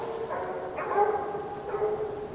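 Hunting dogs on a raccoon hunt give a few long, bawling barks in quick succession, a little distant and clear over faint outdoor background noise.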